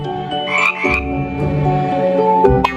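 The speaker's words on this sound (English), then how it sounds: "F is for frog." A frog croaks loudly and repeatedly in throaty, tonal bursts that run almost continuously, with no voices.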